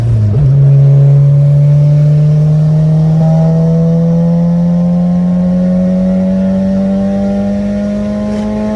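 A turbocharged all-wheel-drive car accelerates hard, its loud close engine note climbing steadily in pitch as the turbo spools, with no one speaking.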